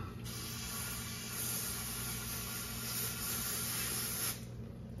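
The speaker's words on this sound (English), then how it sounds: "I'm gonna spray everything good just to make sure I get it all cleaned off." A steady, loud hiss of cleaner sprayed on a Porsche GT4 during a transmission fluid change runs almost continuously, then cuts off near the end, with a low engine-like rumble underneath.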